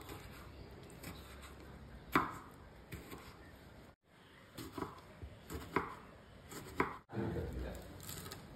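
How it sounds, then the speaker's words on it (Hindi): Knife strikes on a cutting board as tomatoes and coriander leaves are chopped, in irregular bursts, crisp chops with short gaps and a brief silent break partway through. "ओल उबल रहा है तब तक टमाटर और धनिया पत्ता काट लेते हैं।"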